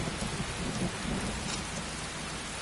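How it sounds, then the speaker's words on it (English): Steady heavy rain with rumbling thunder fills a nighttime scene in the video game Skyrim, a dense, constant wash of sound with no voices over it. "It's getting nighttime and it's raining."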